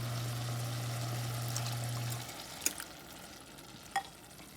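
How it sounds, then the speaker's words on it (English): Milk poured into a reduced sauce cooking in a pan, with a steady sizzle and bubbling that turns softer and quieter halfway through, broken by a couple of sharp utensil clicks. "the next thing we're going to do is we're going to add in milk"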